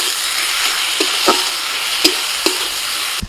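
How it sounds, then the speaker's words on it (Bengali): A ground paste of whole coriander, cumin, black peppercorns and dried chillies, with turmeric and salt, sizzles loudly in a pan for duck curry. A spoon scrapes and knocks the pan several times at irregular intervals. "মশলাটাকে কিন্তু খুব বেশি আমি কষাকষি করবো না, মশলাটা জাস্ট হালকা কষে নিয়ে"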